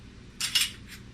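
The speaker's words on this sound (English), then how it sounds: "Now we put the screw tops on." Metal screw tops go onto glass jars of homemade strawberry jam, making two quick, close clinks and a fainter third a moment later over a quiet background.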